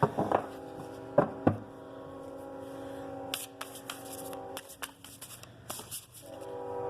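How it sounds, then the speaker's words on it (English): A passing train heard through an open window makes a steady low rumble with a sustained, tonal horn-like drone, and sharp clacks and rattles break in now and then. "I have the window open and the train's going by"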